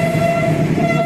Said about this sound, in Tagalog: Mas marami nang bumabiyahe ngayon ano mga kabayan na mga tren.